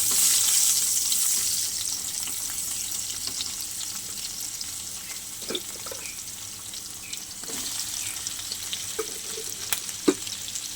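Chopped onion sizzles steadily in hot oil in a pan while shapla (water lily stems) are being fried, a dense continuous hiss with a few soft clicks and stirring taps, close and moderately loud.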